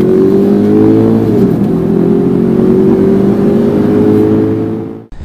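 A 2008 Subaru Legacy's 2-liter boxer engine revs up close, loud and steady with a smooth harmonic drone, its pitch shifting once partway through before the sound cuts off abruptly near the end.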